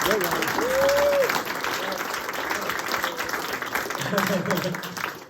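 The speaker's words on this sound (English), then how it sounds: "Clap very loudly now." Audience applause rises at a university talk, a broad wash of clapping under a speaker's voice, swelling and then tapering toward the end.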